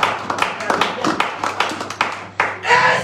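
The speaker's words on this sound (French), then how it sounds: "Ah, acclamez pour le Seigneur." A church congregation claps together in quick, loud bursts of applause during a worship service, the claps close and rhythmic with voices mixed in over a low steady hum.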